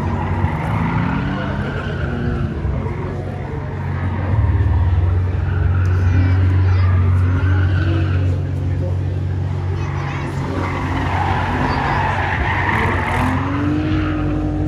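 A Ford Mondeo ST race car at a sprint event makes a loud, steady engine and tyre roar that runs throughout, with a commentator talking over it.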